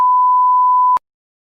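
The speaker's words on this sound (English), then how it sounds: "you can hear a long beep indicating a boot-up error." A single long, steady computer beep signalling a boot-up error when the machine is switched on, one pure uniform tone held for about a second and then stopping abruptly into silence.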